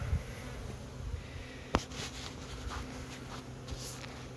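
Bees buzz around a hive outdoors on a winter day, a steady close drone with a brief tap and a few passing individual buzzes, no talk.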